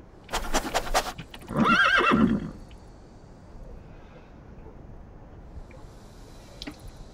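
A horse neighs with a loud, wavering whinny in the video game CHKN, preceded by a burst of noise, then quieter background with faint clicks.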